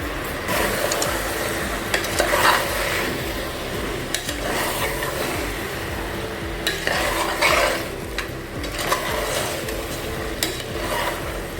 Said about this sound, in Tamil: இப்போ இந்த மசாலையெல்லாம் சேர்ந்து கொஞ்சம் நேரம் நல்லா வதங்கட்டும்.